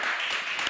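Audience applauding a conference panel on energy and the digital economy, a short dense burst of clapping that fills the room evenly with no voices over it.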